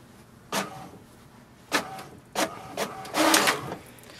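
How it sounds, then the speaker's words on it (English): An HP DeskJet Plus 4123 inkjet printer prints its information page, giving several distinct mechanical whirs and clunks of paper feed and carriage movement at irregular intervals, close by. "wait for the printer to print the printer information"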